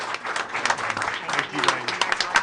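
Audience at a school board of education meeting giving a round of applause, many hands clapping in a sustained, moderately loud burst with scattered voices underneath.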